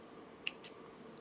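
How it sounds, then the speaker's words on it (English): Scissors snip through necklace thread while making handmade jewelry, two quick crisp cuts in close succession, close and fairly quiet with no talking. "I will cut the thread"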